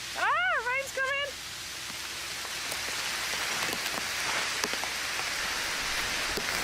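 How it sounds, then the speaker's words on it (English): A voice rises in a few excited, warbling exclamations, then rain starts pouring onto a tarp in a forest. It builds into a dense, close, steady patter with scattered sharper drops. "Ah, rain's coming!"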